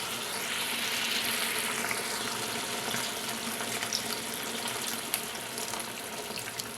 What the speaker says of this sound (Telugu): కొన్ని వాటర్ను కూడా మిక్స్ చేసుకుందాం